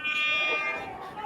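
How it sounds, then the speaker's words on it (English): Loud, sustained air horn blast from a phone app, a bright buzzing tone that holds steady, then fades slightly toward the end. "I have an air horn app on my phone that I like to blast off all the time."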